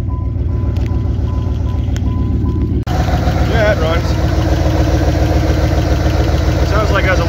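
An old Dodge truck engine idles with a steady low rumble and faint knocking rhythm; it briefly drops out, then resumes slightly louder and rougher, with a possible exhaust leak.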